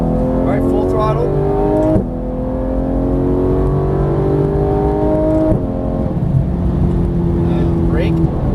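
A Porsche GT3 engine at full throttle on a track, loud and close, revving up in rising harmonic sweeps with gear changes near two and five and a half seconds, with a voice talking over it.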